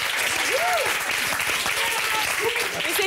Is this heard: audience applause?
yes